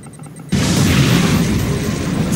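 An ion cannon strike in Command & Conquer 3: Kane's Wrath lands as a sudden loud boom, followed by a sustained roaring rumble that fills the rest of the moment.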